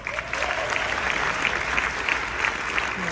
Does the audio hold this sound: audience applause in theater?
yes